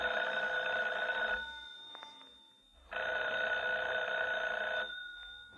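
A telephone bell rings in two long bursts with a short pause between them, loud and close, with no voices.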